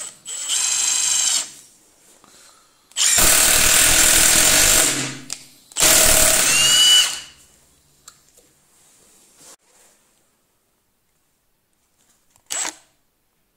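A Milwaukee M18 FIW2F12 impact wrench on its third, full-power mode drives a 4x90 screw in two loud, sustained bursts of hammering impacts, with a short burst before and a brief blip near the end.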